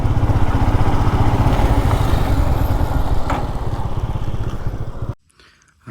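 A motorcycle engine idles close by with a rough, rapid chugging beat as the bike is parked on a hillside road in Meghalaya, then cuts out abruptly into near silence.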